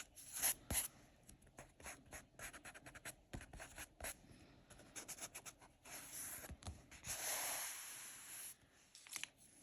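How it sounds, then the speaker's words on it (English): An eraser rubs back and forth over pencil lines on a paper mandala drawing, producing soft, irregular scratchy strokes in quick bursts with brief pauses, faint and close. "I can erase some of those pencil lines."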